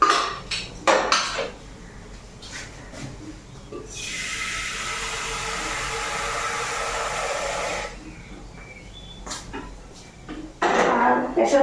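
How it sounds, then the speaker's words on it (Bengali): A metal pressure cooker is lifted down and handled in a home kitchen, with sharp clanks at the start and end around a steady rushing hiss of running water in the middle. "প্রেশার কুকারটা নামিয়ে নিই। তো প্রেশার কুকারে দেবো জল"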